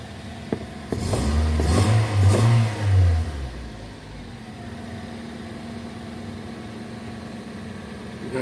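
A 2006 Nissan Y11 AD with a QG15 electronic-throttle engine, suffering from no acceleration, cranks and starts, then revs up twice in a loud, close swell before settling to a steady idle.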